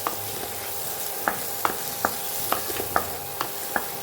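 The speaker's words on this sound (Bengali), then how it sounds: "টমেটো কুচিটা দেওয়ার পর একটু নাড়াচাড়া করব তেলের সাথে।" Chopped tomato fries in oil while a utensil stirs it, roughly eight sharp scraping taps at an uneven pace over a constant sizzle, close and with no talk.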